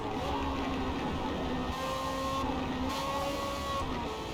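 Racing car engine in Forza Motorsport career mode, droning steadily with gliding pitch changes as it accelerates and shifts, even in level throughout with no voices.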